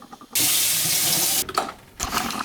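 A kitchen tap runs a steady, strong stream for about a second to fill a kettle for lemon and ginger tea, then stops, followed by soft clunks and a brief second splash.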